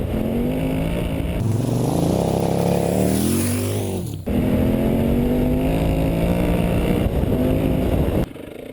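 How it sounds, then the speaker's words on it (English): A big twin-cylinder adventure motorcycle engine revs loud and close, a sustained throaty roar that climbs in pitch, drops briefly, then holds a steady high drone. "The Big Twin sounds amazing,"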